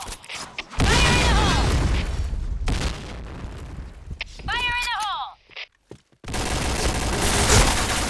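Point Blank gunfire rattles in loud bursts with heavy booms, breaking off for a couple of near-silent gaps before resuming, while someone talks over the shooting.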